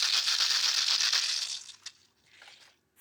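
Homemade maraca made from a balloon filled with stones, shaken steadily for about a second and a half in a loud, hissy rattle, then a couple of softer, shorter shakes trailing off, with no talking.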